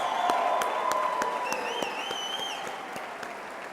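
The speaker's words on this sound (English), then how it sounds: "how about another round of applause for the class of" Applause for the graduating class of 2013 at a West Virginia University commencement ceremony, a steady dense wash of clapping from a large seated audience that gradually fades, with whistles and cheers rising above it partway through.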